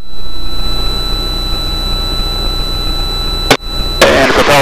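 Inside an Extra 300L aerobatic plane just after takeoff, the engine drones loudly and steadily with a constant whine as throttle is eased back, broken by a brief sharp dropout and a burst of noise near the end.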